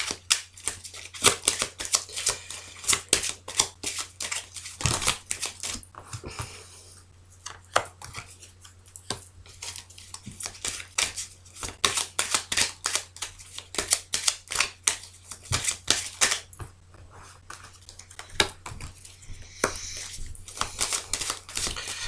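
A deck of tarot-style cards is cut and shuffled for a card reading, giving a steady run of crisp riffling slaps and flicks with short pauses, close and fairly loud, with no voice over it.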